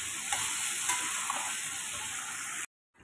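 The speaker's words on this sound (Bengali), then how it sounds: "ভালোভাবে কষিয়ে সুন্দরভাবে কষাবো।" Cauliflower, potato and egg curry being sautéed in a pan, with a steady broad sizzle and a few soft stirring scrapes, close and loud, ending abruptly in silence.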